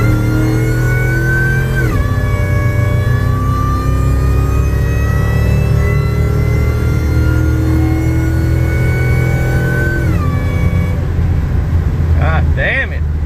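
A supercharged Ford F150 with an SVT Lightning swap accelerates hard from a 50 mph roll, the engine droning loud and climbing steadily through two gear shifts, with supercharger whine and a voice heard briefly near the end.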